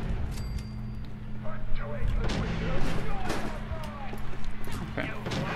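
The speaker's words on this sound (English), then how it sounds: "The gunshot sounds so good inside." Gunfire in the Fallout 4 video game, fired indoors with a reverb mod: several heavy booming shots with long echoing tails, spread across the clip and mixed with other game sounds.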